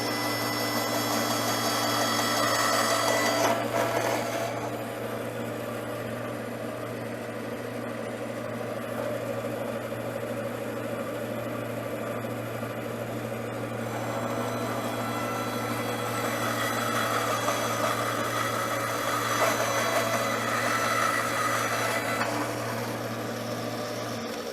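A power tool trims a small piece of wood during wand and pen making, giving a steady motor hum with a faint rise in the cutting sound near the start and again around twenty seconds.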